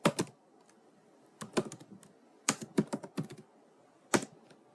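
Keys clatter on a computer keyboard as a short command is typed into a command prompt window, in quick bursts of close, crisp clicks separated by brief pauses, with nothing else heard.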